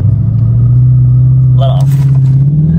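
A Dodge Charger engine held at steady high revs during launch control, a loud, close, continuous droning rumble with a brief higher whine partway through.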